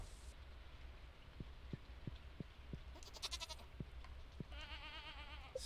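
Goat in the Stardew Valley farming game bleats in a short burst of soft, game-style calls over a quiet background with light rain and small clicking ticks.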